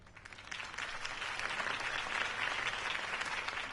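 A crowd applauds after a campaign speech, a dense wash of clapping that swells and holds steady, heard from a distance and fairly faint, with no talking.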